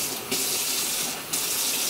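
A kitchen tap runs a steady hissing stream of water into a bowl of pancake mix, close and fairly loud, with a brief change in the flow partway through.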